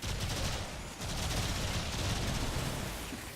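Rapid automatic gunfire from the video game Warframe rattles continuously in a dense, loud burst of shots, briefly easing near one second before the stream resumes and carries on without pause.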